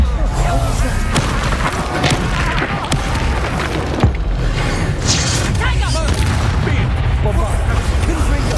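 Spell explosions from the Bombarda and Confringo curses in the Hogwarts Legacy video game, loud booms and crashes piled into a continuous dense battle din, with voices mixed in.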